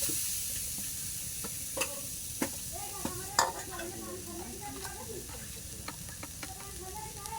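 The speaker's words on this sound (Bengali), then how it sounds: "এই যে নারকেলটা দিয়ে দিলাম" Grated coconut tipped into a hot pan and stirred, a soft continuous sizzle with scattered spoon taps and scrapes, fairly quiet and close, a voice briefly speaking over it.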